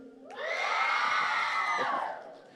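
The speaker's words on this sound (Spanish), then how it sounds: "Ese es un grito de emoción." A crowd of children at a secondary school reading event lets out one long, loud shout of excitement that swells, holds for nearly two seconds and then fades.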